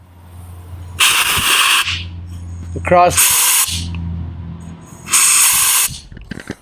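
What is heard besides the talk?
compressed air sprayed from an air nozzle across a carburetor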